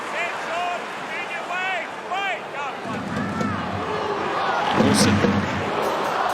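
A large Bulldogs rugby league crowd at an Eels v Bulldogs NRL match swells into a broad roar in two surges under a commentator's voice.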